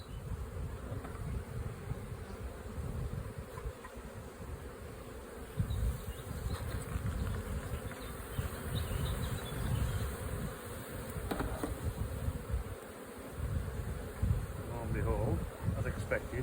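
Honey bees buzz around an open hive after being shaken off the bottom box, a dense continuous hum of many wings close by, with wind noise and occasional soft handling sounds.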